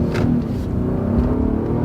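Heavy all-wheel drive vehicle accelerating, a loud close engine drone rising steadily heard from inside the cabin, with no talking.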